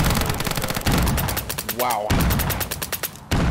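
Rapid bursts of gunfire from the video game Peak.53, a SOCOM successor, loud and close with clattering automatic shots, while a player briefly exclaims over the shooting.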